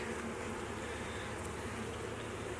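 Honeybees swarm around an opened hive of resource colonies during an inspection, making a steady, dense buzzing hum that holds evenly throughout at a moderate, close level.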